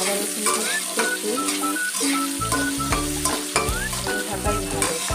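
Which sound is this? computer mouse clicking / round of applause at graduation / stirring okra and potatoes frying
stirring okra and potatoes frying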